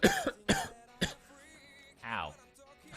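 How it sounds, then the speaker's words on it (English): A few sharp, loud bursts of coughing close by, followed by a strained, raspy vocal sound like choking or gagging. "I like coughed and then I choked on it"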